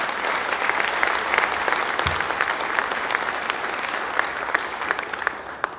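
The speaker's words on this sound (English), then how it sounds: "Let's give them all a round of applause." Sustained applause from a seated audience at a board recognition ceremony, thick and even clapping at a constant level throughout, with a brief low thump partway through.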